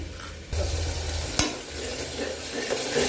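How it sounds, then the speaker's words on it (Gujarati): Spices roast in oil in a pan for a pea and potato curry, a steady close sizzle with stirring scrapes and one sharp knock of a utensil against the pan partway through. "આપણા હજુ મસાલા શેકાયા નથી હજુ આપણે મસાલા શેકાવા દેવાના છે"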